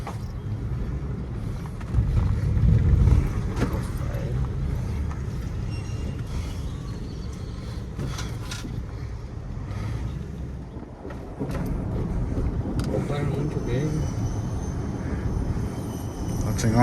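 A 2004 Ford F150 with a no-power fault, out on a test drive after its computer was replaced: steady low engine and road rumble heard from inside the cab, swelling slightly at moments, with no clear speech.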